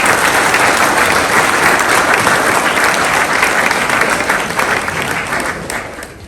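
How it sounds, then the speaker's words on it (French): A crowd claps loudly and steadily, dense applause that tapers off toward the end. "Je propose qu'on les applaudisse."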